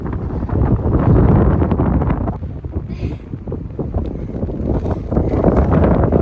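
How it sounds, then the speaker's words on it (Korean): Strong wind buffets the microphone on a hilltop at Cheongundae, a loud, roaring rumble that surges and dips briefly before gusting hard again, with no voices. "바람이 불고 올라 오니까"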